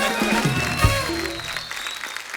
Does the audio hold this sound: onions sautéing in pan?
no